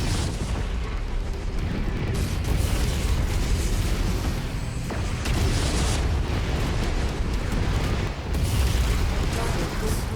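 A mech being destroyed in the MechWarrior 5 video game, heard as sustained heavy explosive booms and roaring blasts over continuous loud combat noise.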